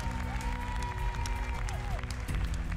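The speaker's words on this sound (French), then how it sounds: "Bravo Mathieu, on peut l'applaudir." A crowd at a Gasconne des Pyrénées breed competition claps steadily throughout, dense and fairly loud, with a tonal sound lingering underneath.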